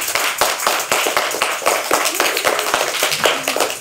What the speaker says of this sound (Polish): Wielkie brawa dla Joli